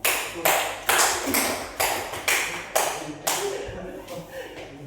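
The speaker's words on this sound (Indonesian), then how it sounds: "Berikan aplaus buat Ali." A classroom of students applauds a pupil named Ali with a burst of several rhythmic claps repeating in sharp bursts, close and fairly loud, fading toward the end.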